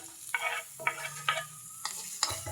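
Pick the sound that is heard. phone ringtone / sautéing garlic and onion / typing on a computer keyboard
sautéing garlic and onion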